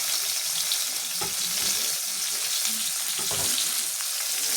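Spices with turmeric, salt and Kashmiri chilli powder are sautéed in oil for a fish curry with potatoes, a loud continuous close sizzle broken by a few stirring knocks.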